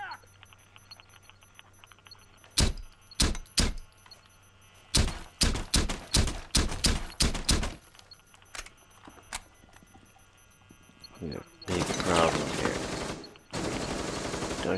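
Video game gunfire in bursts of sharp, loud single shots, first spaced apart and then fired in a quick cluster, followed by longer stretches of noisy rapid fire. Faint background tones run throughout.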